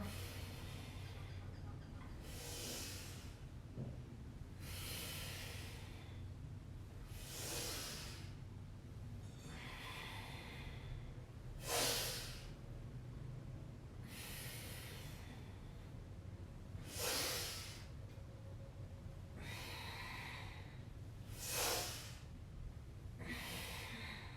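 Deep, slow breaths drawn in and pushed out during an energizing yoga flow, with several louder exhales standing out in a steady rhythm, close and fairly quiet, with no talking.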